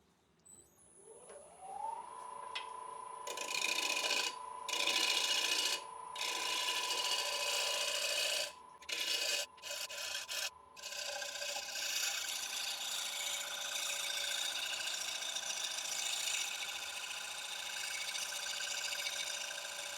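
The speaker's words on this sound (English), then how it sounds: "I'm just doing a little shear cut along the front now, so getting close to round." A lathe tool makes a shear cut across the front of a dry, very hard elm bowl: a rising whine settles into a steady scraping hiss, broken by choppy bursts as the cut starts and stops, with no talk.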